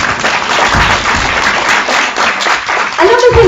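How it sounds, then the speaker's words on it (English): An audience at a motivational talk on belief and vision claps for itself, a steady round of applause lasting a few seconds with a voice breaking in at the end. "So give yourself a round of applause."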